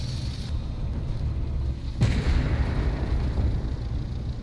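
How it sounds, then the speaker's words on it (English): Armored Warfare tank battle with enemy fire aimed at the player's tank: a single heavy blast booms out over steady low engine rumble, followed by a lingering rolling echo. "He's shooting at me."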